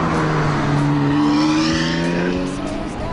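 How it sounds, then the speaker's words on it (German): A Ferrari sports car pulls away at full throttle with a loud engine note that climbs steadily in pitch, then eases slightly toward the end. "hat sich wieder einen Ferrari geliehen und gibt wieder einmal Gas"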